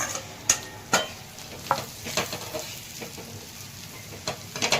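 Ground peanuts sauté in oil in a pan for a dry peanut chutney, with a soft continuous sizzle. Repeated sharp spatula scrapes and taps from stirring punctuate it at an uneven rhythm.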